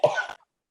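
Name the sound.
cough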